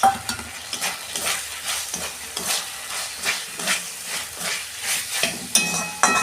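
Fried potatoes tipped into cooked spiced masala for a turmeric-free vegetarian ghugni of chickpeas and peas, bursts of sizzle with rhythmic spatula scrapes and stirring, close and fairly loud, without any talk.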